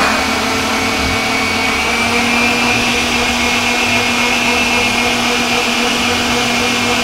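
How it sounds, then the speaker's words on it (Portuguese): An electric stand mixer beats eggs and refined sugar for brownie batter, a loud, steady motor whir with a constant hum running unbroken throughout. "não desliga a batedeira, né?"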